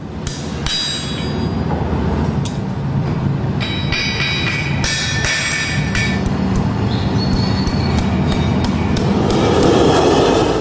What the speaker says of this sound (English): With a few strikes of the hammer, he shapes the horseshoe to match the form of the hoof.